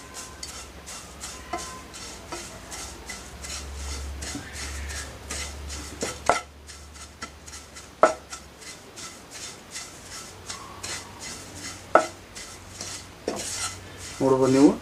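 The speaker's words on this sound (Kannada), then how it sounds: "ಕಸ್ತೂರಿ ಮೆಂತಿನ ಒಂದು ಸ್ವಲ್ಪ ಫ್ರೈ ಮಾಡ್ಕೊಂಡ್ರೆ ಸಾಕು" Dried fenugreek leaves stir-fried in a pan while making chicken masala powder, heard as a steady run of quick ticking spatula scrapes and metal clinks, close and moderately loud, with a few sharper knocks and no voices.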